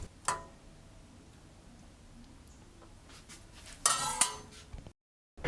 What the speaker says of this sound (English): I am taking a scoop of this delicious Ackee codfish stew to put on a plate of boiled dumplings.